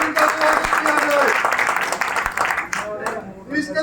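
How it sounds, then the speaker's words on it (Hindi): Crowd applause at a blood donation camp held at a farmers' langar, a dense burst of many hands clapping that swells and then thins out, mixed with voices speaking. "जोरदार तालियों के साथ इनका स्वागत किया जाए।"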